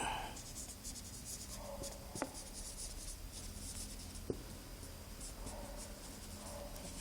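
Marker or chalk writing on a board in a classroom, quick scratchy strokes in short bursts with a couple of sharp taps, heard close while a voice talks over it.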